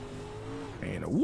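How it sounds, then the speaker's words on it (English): A dirt late model race car spins out at a Charlotte dirt track, engine droning and then a rising tire squeal and skid at the end, with a commentator's voice over it. "He's got that car spinning out in front of him. He hits the wall."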